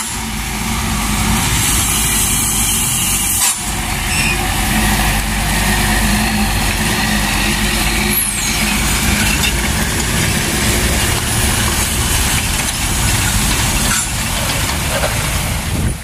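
A Hino 4x2 mining courier truck hauling stone idles up close, a loud, continuous engine rumble under dense broadband noise that runs unbroken throughout.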